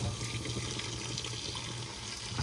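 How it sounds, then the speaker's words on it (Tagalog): Water poured into a cooking pot for beef kare-kare broth, a steady continuous rush of liquid that stays even and moderately close throughout, with no talk. "Lagyan na natin ng tubig."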